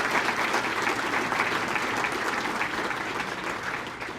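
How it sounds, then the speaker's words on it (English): Sustained applause from a large audience at a Veterans Day luncheon, honoring World War II veterans; dense, steady clapping fills the room and fades only slightly over four seconds. "A big round of applause for our World War II veterans."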